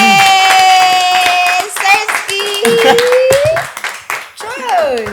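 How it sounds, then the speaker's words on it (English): A small studio audience claps for a guest on a talk show, with quick irregular bursts of hand claps mixed with lively voices and someone talking over them. "can we get a round of applause for the boy?"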